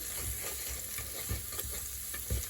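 A spoon stirs a pot of vegan black-eyed peas seasoned with ground red pepper. Faint scraping and low knocks come in a few loose strokes under a quiet background hiss.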